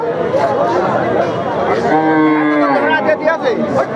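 Several thin, bony cows moo loudly and close by at a cattle market, one long low call standing out over steady crowd chatter and people talking in the background.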